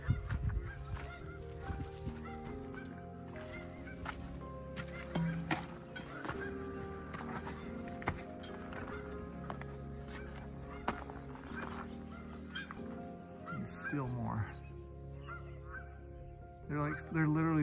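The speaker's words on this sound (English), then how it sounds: "These geese down here are not happy that I'm here." Geese below a long petroglyph rock panel at Butler Wash honk repeatedly and agitatedly, a string of loud nasal calls running throughout and rising near the end, with no talk over them.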